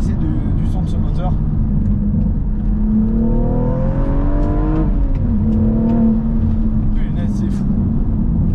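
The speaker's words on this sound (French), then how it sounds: "je vais jamais m'en lasser du son de ce moteur" A BMW M135i with the N55 engine, tuned past 400 hp, revs and pulls hard through a turn, its rising engine tone climbing steadily under a constant road and cabin roar, heard from inside the car.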